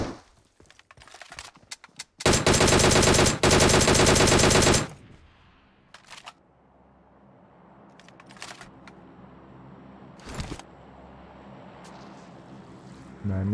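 PUBG Mobile gunfire on the Livik map comes in a couple of short bursts, then a long loud automatic stream as magazines are emptied, followed by a quieter tail with a few isolated shots.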